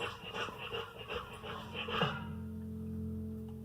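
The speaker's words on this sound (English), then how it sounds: "Sounds like a dog breathing," A dog pants in quick, rhythmic breaths close by, fading into a steady low hum toward the end.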